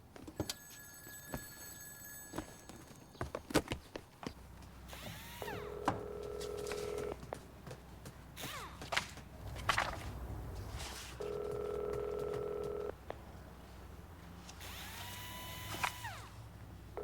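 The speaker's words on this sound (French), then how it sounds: "Il y a le téléphone qui sonne." A telephone rings indoors in a dramatic scene, with two bursts of steady electronic ringing tone separated by a pause, amid clicks, rustles and background room noise.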